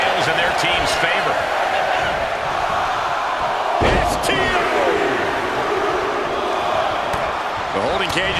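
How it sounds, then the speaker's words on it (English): A wrestling arena crowd in the WWE 2K video game counts down in a loud, steady roar of many voices, with sharp thuds and shouts breaking through the dense noise. "The crowd is counting it down."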